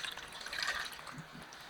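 Water being poured into the jar of a kitchen robot cooker over a basket of chopped spare ribs, a brief soft splashing fill, quiet and close.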